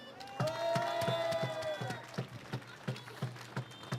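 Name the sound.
crowd applauding at a rally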